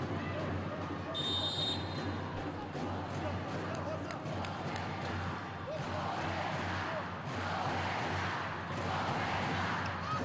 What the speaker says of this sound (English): Fans cheering their setter Roberta as she serves